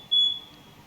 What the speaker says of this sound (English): nothing funner than on a descent and the smoke alarms go off in the house.